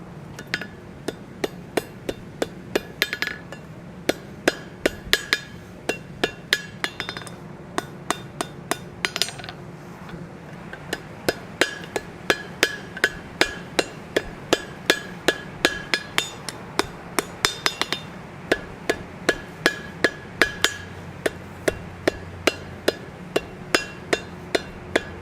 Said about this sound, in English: come right over the horn of the anvil, and go ahead and weld this right up as we go along here